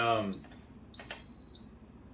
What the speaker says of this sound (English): you hear that beeping noise. That's my Instant Pot telling me it's up to temp.